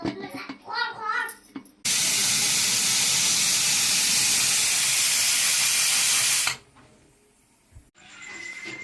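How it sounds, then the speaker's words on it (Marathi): A loud, steady hiss of escaping steam from a pressure cooker cooking goat meat curry lasts about five seconds, then cuts off abruptly, with brief voices before and after. "आपल्याला कुकर लावून घेऊया"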